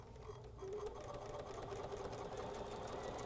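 A sewing machine runs at a steady fast stitching pace, close and alone, while a quilted gnome project is sewn.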